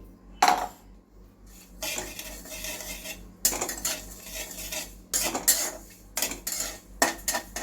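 Rice is stirred in a metal pan with a spoon, bursts of loud scraping and clattering broken by short quiet gaps, close by.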